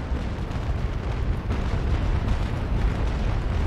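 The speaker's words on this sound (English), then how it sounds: "Ooh, I just got shot by that Santee." Naval Action naval battle with a ship taking cannon fire: a dense, continuous rumble of heavy booming with no gaps, loud and close, and no talking.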